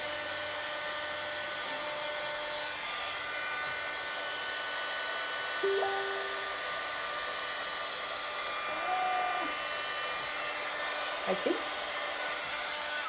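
A dryer blows steadily to dry a craft project, a constant close whir with a few brief squeaks and knocks from handling, no talking.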